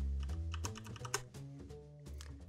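A computer keyboard tapped for a shortcut while working in HitFilm Express, a short run of close, crisp key clicks with no voice.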